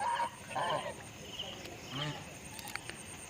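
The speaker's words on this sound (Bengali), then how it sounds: "অনেকগুলো হাঁস" Ducks call in short honking bursts beside a large village pond at night under a moonlit sky, a few clustered quacks at moderate distance separated by quieter gaps, with faint low background noise.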